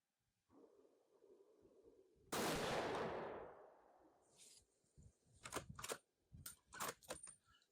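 A single close, sharp rifle shot from a 7mm-08 Savage 110 bursts out and decays over about two seconds, followed by scattered clicks and handling noises.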